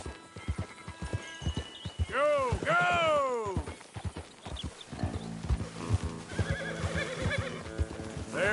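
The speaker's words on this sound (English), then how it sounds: "Come on, horses." Horses in Red Dead Redemption 2 neigh loudly with rising and falling whinnies over a steady clip-clop of hooves, while a voice shouts urgently over the commotion.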